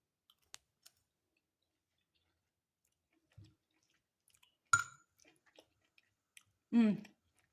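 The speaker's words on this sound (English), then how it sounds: "So I'm gonna just eat another piece just to get another taste in." Chewing pan-fried wild mushrooms: a few soft clicks, a brief wet bite near the middle and a louder moist chewing burst at the end, close and quiet with no talking.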